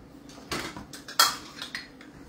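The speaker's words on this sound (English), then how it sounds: "Now, to this mixture, I am going to add the carrots." Grated carrots are added to a dessert mixture in a bowl, with a few soft clinks and taps of a utensil against the dish, quiet and close with brief sharper knocks.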